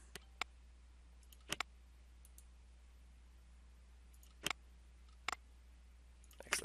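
Computer mouse clicks while playing Rollercoaster Tycoon 3, sharp isolated clicks and a few quick doubles spaced irregularly over a low steady hum, close and quiet.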